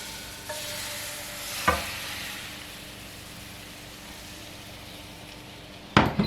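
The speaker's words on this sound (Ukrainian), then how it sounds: "Смажимо на великому вогні і я буду смажити на двох сковорідках." Pancake batter fries over high heat in two pans, giving a steady soft sizzle, with a couple of sharp utensil scrapes and clinks against the pans.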